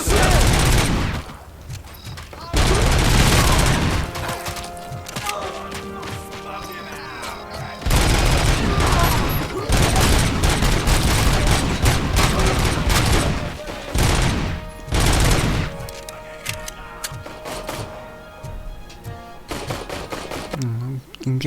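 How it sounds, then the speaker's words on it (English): Heavy gunfire in a Robocop: Rogue City firefight, loud bursts of automatic shots and booming blasts coming in waves, with a voice talking faintly beneath the noise. "Engaging a firefight here"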